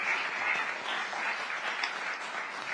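Applause for witnesses at a legislative hearing, a fairly quiet, even patter of many hands clapping from a room audience, sustained without talk.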